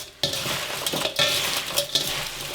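Salted young radish greens (yeolmu) turned over in a bowl, giving a close, continuous rustling and stirring with light clatters against the bowl, alone with no voices.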